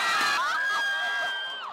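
Korean soccer fans gathered on Euljiro Street cheer for the Red Devils, a dense crowd roar full of high shouts and whoops that stays loud and close throughout.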